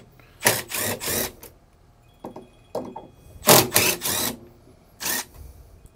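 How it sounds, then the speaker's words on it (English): A Phillips screwdriver backs out bolts from the lower hinge of an Everchill RV refrigerator in a 2019 Entegra coach, making clustered rasping, clicking turns in several separate bursts with quiet pauses between them. "Again, a Phillips screwdriver."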